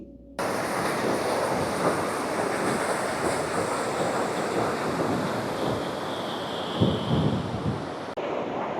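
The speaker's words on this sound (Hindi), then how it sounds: "काफ़ी अच्छा वाटरफॉल है।" A waterfall inside a park in Iceland roars in a constant, loud rush of falling water with wind buffeting, no voices heard.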